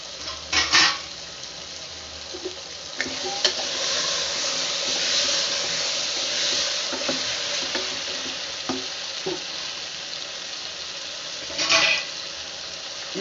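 Chopped potatoes tipped into a pan of white kurma with butter beans, then stirred: a loud scrape and clatter up front, a steady sizzle, repeated spoon knocks against the pan and another clang near the end.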